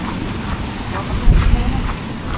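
Strong typhoon wind in Daet during a severe storm, a loud low rumbling buffet against the microphone that swells briefly midway, with faint voices nearby.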